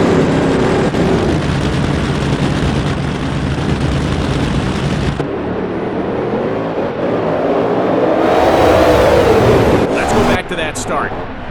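NHRA drag race cars launching off the starting line in a racing game, a loud sustained engine roar that shifts partway through and then swells as the cars pull away. Speech is present along with the engine.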